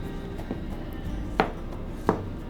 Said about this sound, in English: So we're just going to cut the ends off.